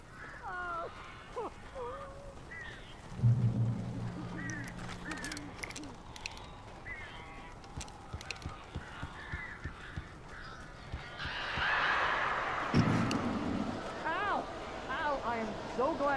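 Several crows caw in a dark, rain-soaked Alan Wake game scene, harsh calls scattered across the clip alongside distant noise, a low rumble and speech passages.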